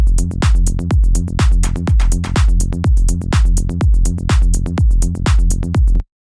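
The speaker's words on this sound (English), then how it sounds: "I prepared a melodic techno drum loop which sounds like this." A punchy melodic techno drum loop of steady four-on-the-floor kicks with crisp hats and percussion, loud and repeating evenly with no voices.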